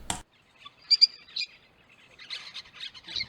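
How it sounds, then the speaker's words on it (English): Lovebirds and weaver birds around a windmill, giving short scattered high chirps and twittering calls in brief bursts, faint and moderately distant, with a sharp knock at the start. "Lovebirds are famous for their strong pair bonds"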